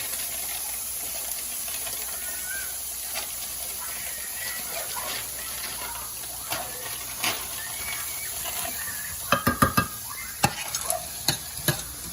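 Eggs sizzle steadily in melted butter in a pan, a constant frying hiss with a few sharp clicks and taps near the end, and no voices.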